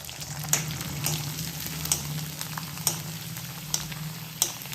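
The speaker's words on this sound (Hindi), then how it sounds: "थोड़ा सा मैंने ये चिप्स निकाले हैं चावल वाले, इसको फ्राई कर लूँगी।" Rice chips fry in hot oil in a pan in a home kitchen, a soft steady sizzle broken by sharp pops and crackles at irregular moments.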